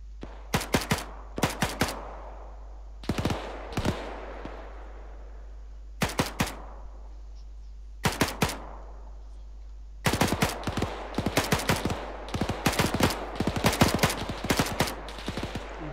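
Arma 3 gunfire: bursts of rapid automatic rifle fire in short volleys separated by pauses, growing into sustained overlapping shooting toward the end, sharp and fairly close, with no talking.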